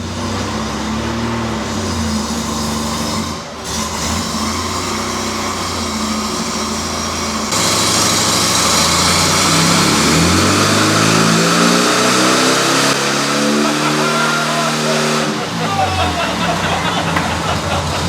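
A Volkswagen engine fitted with a blower runs on a dynamometer, its steady loud drone surging into a higher-pitched rev partway through and then holding, with people talking over it.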